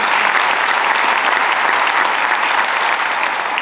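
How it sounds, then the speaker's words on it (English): Audience applause for the mayor at a Martin Luther King Jr. Day celebration in Rochester, with loud, dense clapping filling the hall continuously. "Let's give our mayor a round of applause."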